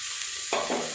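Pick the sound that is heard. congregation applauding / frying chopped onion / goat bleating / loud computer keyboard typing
frying chopped onion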